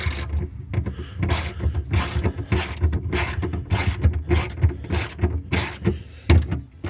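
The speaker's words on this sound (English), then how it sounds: "I'm just gonna tighten these up until it's snug on each one of these" Bolts are tightened with a ratchet during a hydraulic pump replacement on a Mercedes R129 SL, giving a rapid series of close, rhythmic clicking rasps in short bursts with brief pauses between them.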